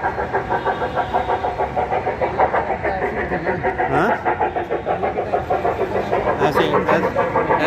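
An old-style engine runs loud and near with a steady rhythmic chugging throb, while people talk over it.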